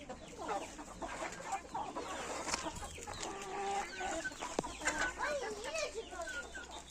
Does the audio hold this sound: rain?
no